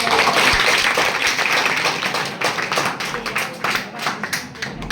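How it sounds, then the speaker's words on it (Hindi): Students at a tenth-grade crash course session applaud a teacher, starting with dense clapping that thins into scattered individual claps and dies out. "एक बार सर के लिए जोरदार ताली"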